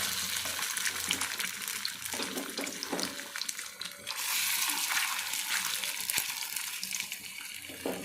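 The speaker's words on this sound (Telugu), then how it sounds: "ఆయిల్లో కొంచెం పసుపు వేసేసి ముక్కలు మనం ఇలాగా సిమ్లో పెట్టుకొని చక్కగా వేపుకుంటే" Fish pieces with turmeric fry in oil on a low flame, giving a continuous soft sizzle and crackle with occasional stirring clatter, close and fairly quiet.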